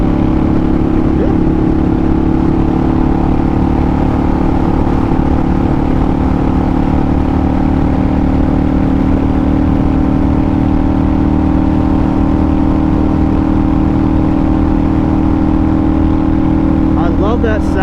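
A 2005 Harley-Davidson V-Rod motorcycle engine runs continuously up close, a loud, steady low drone at an even pace with no clear changes in speed throughout.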